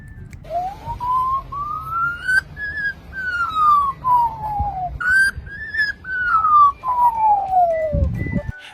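An Australian magpie mimics a siren, singing long rising and falling whistled notes, repeated twice, with faint background noise.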